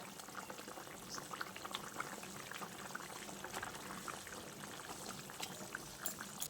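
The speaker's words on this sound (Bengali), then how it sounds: "আর ঝোলটা দেখুন এখন বেশ ভালোভাবে ফুটতে শুরু করেছে।" Katla fish curry (jhol) boiling in a pot: a quiet, steady bubbling and popping that goes on throughout, with no voices.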